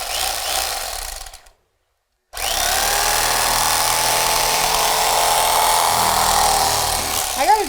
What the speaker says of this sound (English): But electric knife does a fabulous job.